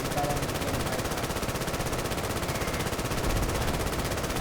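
Belt-fed machine gun in the video game Easy Red 2, firing a long unbroken burst of rapid, loud gunfire that runs the whole stretch without pause.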